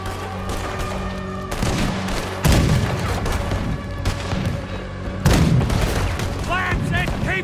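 Cannon fire aimed at a boat during a gunfight in Red Dead Redemption 2: repeated heavy booms and gunfire crackle over a dense, noisy battle, with voices shouting.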